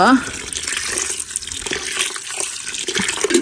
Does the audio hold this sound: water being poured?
yes